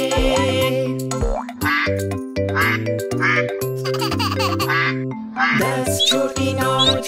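Cartoon duck quacks repeat through a bouncy children's nursery rhyme about little ducks, sounding loud and rhythmic over bright music with boings and jingles.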